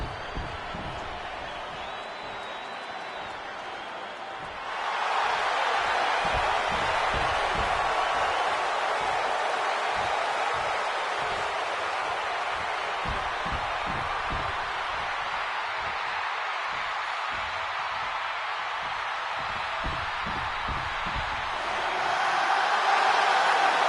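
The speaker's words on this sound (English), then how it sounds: "this capacity crowd just exploded" A capacity arena crowd in the WWE 2K26 wrestling game, gathered for Seth Rollins versus CM Punk, swells into a loud, sustained roar partway through. The roar holds steady for a long stretch and surges again near the end, with a commentator's voice faint beneath it.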